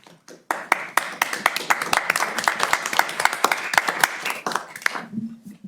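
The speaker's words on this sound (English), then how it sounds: "That does deserve a round of applause." A modest group claps at a Tiffin city council meeting, individual hand claps clearly separable in a quick, uneven patter that starts abruptly, holds steady and tapers off near the end.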